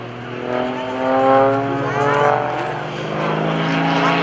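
An aerobatic airplane flown by Gary Ward at the 2015 Greenwood Lake Airshow roars past with a steady, loud engine drone that swells and fades over a few seconds, while an announcer talks over it.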